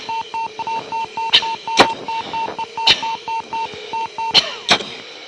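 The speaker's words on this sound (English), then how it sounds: "Those beeps you hear are called G-limit tones, and it's the aircraft warning you that you're approaching an excessive amount of G." Repeating electronic warning tones in a fighter jet cockpit during a sustained high-G pull, short even beeps pulsing in a steady rhythm, with intermittent loud thumps and clicks over a continuous cabin hum.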